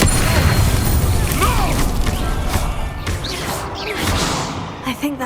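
Spell explosions from the Hogwarts Legacy video game: heavy booming blasts and whooshing impacts in a loud, busy combat mix, with bursts fading toward the end.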